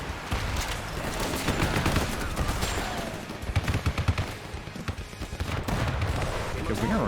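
Gunfire from a manned gun emplacement in a real-time strategy game, heard as continuous rapid rattling shots layered with other battle noise, with denser bursts in the middle, under a player talking.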